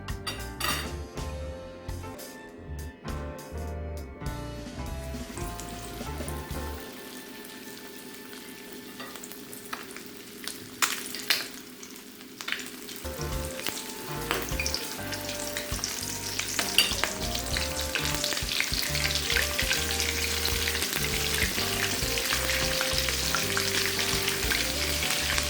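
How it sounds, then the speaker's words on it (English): Chicken fries, sizzling and crackling steadily in hot oil in a pot, with a few clinks and stirring scrapes early on, growing louder and busier toward the end. "So now I'm gonna start frying."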